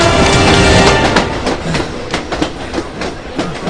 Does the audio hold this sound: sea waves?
no